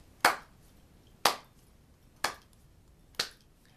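A slow golf clap, four sharp isolated claps spaced about a second apart, crisp and close with quiet between each.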